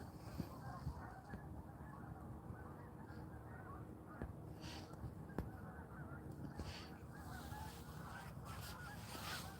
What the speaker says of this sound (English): These geese are going into the field.